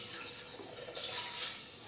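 Washed rice and water are poured into a pot for prawn biryani cooked in coconut milk, making a steady splashing pour that runs for nearly two seconds, close and continuous, with no talk.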